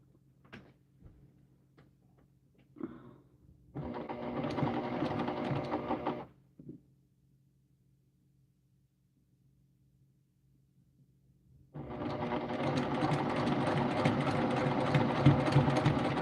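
A sewing machine running a scant quarter-inch seam, in two bursts of steady whirring stitching separated by a quiet pause, with light handling clicks at the start.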